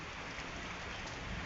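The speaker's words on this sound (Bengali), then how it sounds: "দেখো কি বৃষ্টি হচ্ছে" Heavy rain pours down steadily outside a rural home kitchen, a dense, even hiss with no gaps or distinct drops, loud and close, with no talking.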